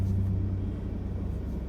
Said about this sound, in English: I just heard a big plane.